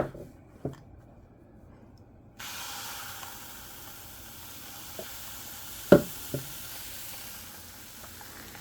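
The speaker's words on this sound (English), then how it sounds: "5 a.m. making pancakes for myself" Pancakes frying in a pan early in the morning: a faint, steady sizzle and hiss runs throughout, broken by a few soft utensil clicks and taps, with no talking.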